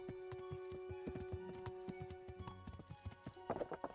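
Rhythmic hoof clip-clops from a horse in the video game Kingdom Come: Deliverance, steady and fairly close, over a background of game music tones.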